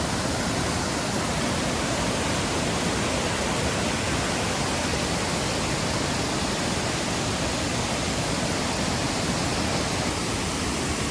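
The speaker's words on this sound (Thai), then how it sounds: "เป็นน้ำตก" A forest waterfall spilling over rocks near a remote village roars steadily and loudly throughout, a constant broadband rush of falling water with no voices over it.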